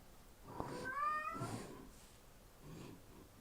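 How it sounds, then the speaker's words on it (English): A pet cat meows loudly in a long, drawn-out wail, followed by softer trailing calls, close by in an indoor room with no talking over it. "You can probably hear the cat."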